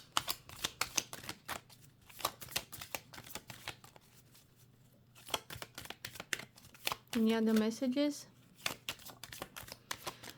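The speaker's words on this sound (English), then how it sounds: "These decks are pre-shuffled, but I like to shuffle them" A tarot deck is shuffled steadily in quick, crisp taps and flicks close by, running under a person talking quietly, with a brief louder burst of shuffling partway through.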